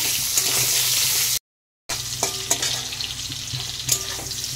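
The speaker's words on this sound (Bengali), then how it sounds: "আমগুলি দিয়ে একটু নাড়াচাড়া করে নেব।" Mango pieces being stirred and fried in a pan with five-spice and dried red chili, giving a constant close sizzle with scraping stirs. A brief dropout to silence interrupts the sound partway through, and no one speaks.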